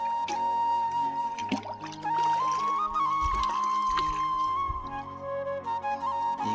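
Water is poured from a vessel into a container on a farm field, with a continuous trickling, gurgling stream over several seconds and faint background sounds.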